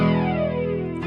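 Electric guitar through a Kemper profile of a Roland JC-120 with chorus, flanger, delay and reverb, a single sustained, shimmering chord ringing out loud and swirling, then an abrupt pick scrape at the end.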